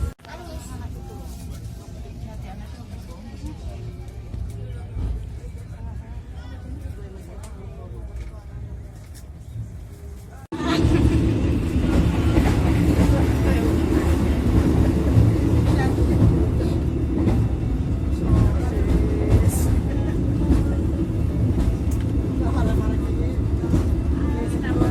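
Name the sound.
Indonesian passenger train running, heard from inside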